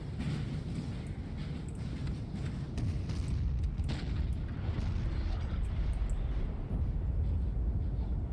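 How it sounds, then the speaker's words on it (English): Distant artillery fire rumbles as continuous low booms and thuds through a multiplayer battle in the strategy game NTW3, a steady dull roar without distinct isolated shots. "And all of this has been under artillery fire the entire time."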